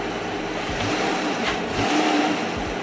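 A Dodge Charger engine revs up in a broadband roar just after an air filter replacement, the revs rising and holding for a few seconds close by, with no talking.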